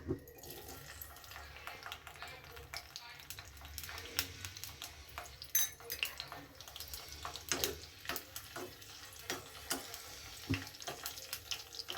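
Cashews and raisins fry in a pan for sweet pongal, a soft, steady sizzle with scattered crackles and pops and occasional stirring clatter, fairly faint and close.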